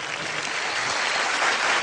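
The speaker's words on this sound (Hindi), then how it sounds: "जोरदार तालियां" Studio audience at a televised comedy awards show bursts into loud, sustained applause, a dense, even wash of clapping that holds steady for the full two seconds with no voices on top.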